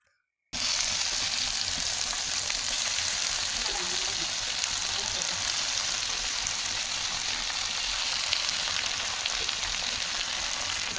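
Chunks of elephant foot yam fry in hot coconut oil with green chillies and curry leaves, giving a loud, dense, continuous sizzle close by that starts abruptly and holds steady.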